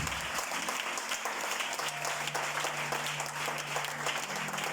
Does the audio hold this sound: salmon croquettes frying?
no